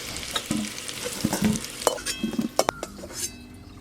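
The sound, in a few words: potatoes frying in pan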